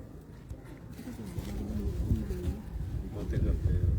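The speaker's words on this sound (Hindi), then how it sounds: "ये फलक शेर कबूतर है।" Soft, low cooing from caged pigeons rolls along under a person speaking, with rustling and background noise throughout.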